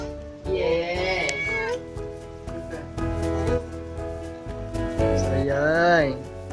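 A Persian or ragdoll cat meows several times, drawn-out and close, with long rising and falling cries and people's voices murmuring underneath.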